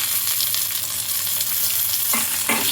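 Onions and tomato pieces frying in a pan, a loud, continuous sizzle with a couple of stirring scrapes near the end.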